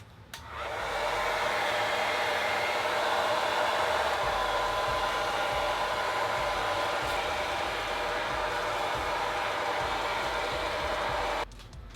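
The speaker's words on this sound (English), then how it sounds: "spray the top of that, and get my blow dryer" A hair dryer drying a synthetic wig runs steadily for about eleven seconds, a loud, continuous broadband whoosh with a low motor hum, switching on and off at the ends.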